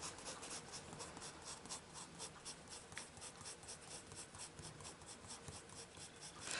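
Coloured pencils stroke across a paper colouring page, a close, quiet scratching in quick rhythmic back-and-forth strokes that continues steadily without speech.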